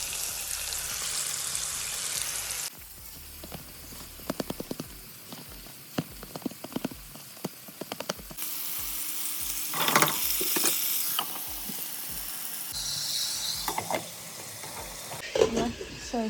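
Food fries in a pan at home, giving a continuous sizzle with intermittent clicks and clatters from handling, close by and fairly loud, with a few brief murmurs in the background.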